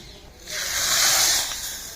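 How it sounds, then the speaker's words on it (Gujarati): Hot tempering of oil with asafoetida and red chili poured into liquid tuvar dal for Gujarati wedding-style dal, giving one loud, close hiss that swells quickly, holds about a second, then fades. "એ વઘારને દાળમાં પેલું બનાવેલું એ જે લિક્વિડ છે એમાં નાખી દેવાનું."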